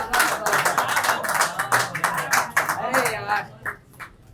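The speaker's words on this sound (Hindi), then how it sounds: "एक बार फिर से कासिफ भाई के लिए तालियां यार" Audience at a Hindi-Urdu poetry gathering clapping for a poet, a busy patter of hand claps with voices mixed in, tapering off near the end.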